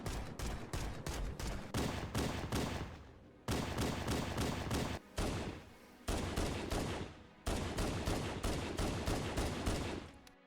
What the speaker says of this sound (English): This is really what I want the Magnum to sound like.